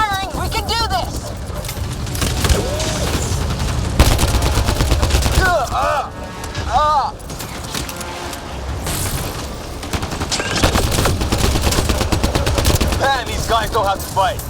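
Sustained automatic weapon fire in Mass Effect Andromeda, rapid loud bursts rattling almost continuously through a chaotic firefight, with voices shouting over the shots and brief lulls around the middle.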